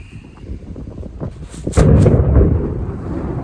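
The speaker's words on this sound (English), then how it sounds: "Wow, that was a cool lightning bolt" Thunder following a lightning bolt outdoors during rain: a low rumble that builds into a loud, close crack and then rolls on as a heavy rumble over steady rainfall.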